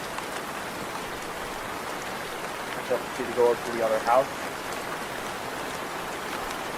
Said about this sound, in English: Need to walk through the heavy rain without really caring.